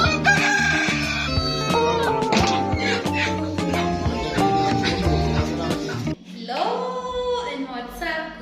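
Roosters crow loudly and repeatedly over the dense bustle of a market selling kienyeji chickens, with overlapping voices and other birds throughout.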